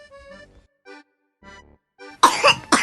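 Several dry coughs burst out near the end of a children's Peppa Pig story read aloud, loud and close after a stretch of soft narration; a voice imitating a sick character's cough.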